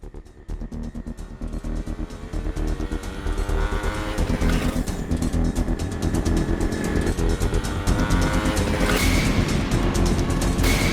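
A motorbike engine revs up and roars louder as the bike pulls away, a steady harsh drone building over several seconds, with music or effects mixed in.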